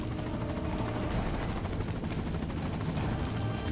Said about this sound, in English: Is that all they sent? Just one helicopter?